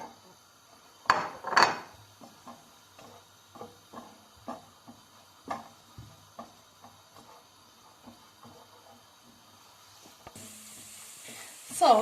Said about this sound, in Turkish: İlk önce küp küp doğradım bir adet soğanımı kavuruyorum